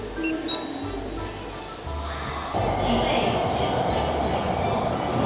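Constant rumble and rushing noise from inside a moving Suzhou Metro Line 11 subway car, loud and continuous, with no clear speech over it.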